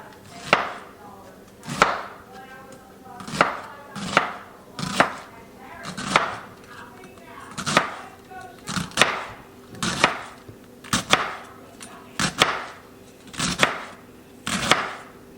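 A knife chops cabbage into tiny pieces on a cutting board, making steady, evenly spaced thwacks about one per second, close and crisp, with no talk.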